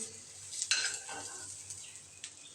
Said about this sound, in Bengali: ডিমটা একটা জিরে ফোড়ন দিয়ে হালকা ভেজে নিয়ে রান্না করছি